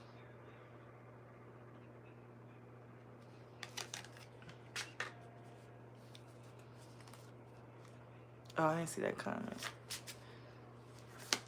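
Tarot cards are shuffled by hand in short riffling bursts, one brief flurry and then a longer, denser run, close and crisp, while someone talks quietly over a low steady hum.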